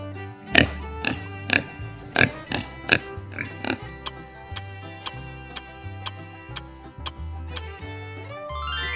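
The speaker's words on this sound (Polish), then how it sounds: "To świnka." Farmyard pig oinking in a run of short grunts over the first few seconds, followed by steady ticking with a light musical backing.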